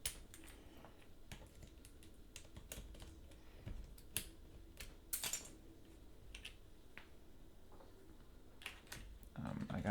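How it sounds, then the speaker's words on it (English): Keycaps are pried off a mechanical keyboard, giving scattered sharp plastic clicks and snaps at an irregular pace, close but fairly quiet. "we have to remove the keycaps on the side"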